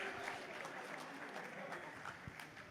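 An audience applauds a music composer and his team at a film blockbuster celebration, a steady wash of clapping from a large crowd heard from a distance and fairly faint.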